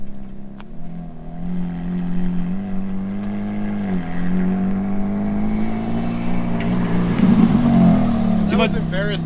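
A Ferrari F430 doing a burnout holds a steady, loud engine drone that swells as it revs, with a faint tire hiss late on, under people talking.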